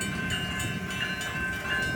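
A steady, loud rumble as Union Pacific UP 8860 slowly heads an outbound manifest freight train at Baseline Road, engine drone and rolling wagons continuing without break or speech.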